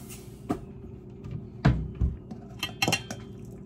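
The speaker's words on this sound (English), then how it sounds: "now we're going to mix it up" Antipasto salad being tossed in a bowl, with scattered clinks and knocks of utensils against the dish and a few soft thuds, irregular and close, without talk.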